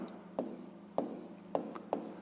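A pen writes on paper in four short, quiet strokes spaced evenly apart, close by with nothing else over it.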